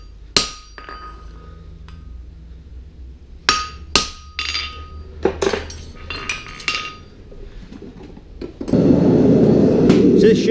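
A hammer fullers a heart bar horseshoe on an anvil: scattered sharp, ringing metal strikes at an irregular pace, some in quick pairs. A loud, steady rushing roar takes over near the end.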